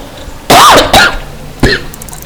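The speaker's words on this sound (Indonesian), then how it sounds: "Ustaz batuk." A religious teacher coughs a few times during a lesson on ablution, three harsh bursts close to the microphone with short pauses between them.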